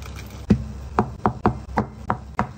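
A knife chops ham on a cutting board for a home-cooked meal, giving about eight crisp, evenly spaced knocks close by with no talking.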